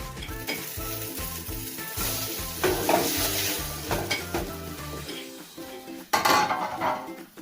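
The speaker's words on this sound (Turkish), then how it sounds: "Öbür tarafını da pişiriyorum." Börek frying in a pan with its second side cooking: steady sizzle and stirring with clinks of utensils against the pan throughout, nearby and fairly quiet, with a sharper scrape near the end.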